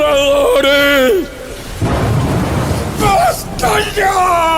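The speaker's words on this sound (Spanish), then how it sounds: "¡Y estos truenos tan aterradores!" A dramatized thunderstorm effect with hail plays as a loud broad rumbling roar between and beneath a voice speaking Spanish with dramatic emphasis.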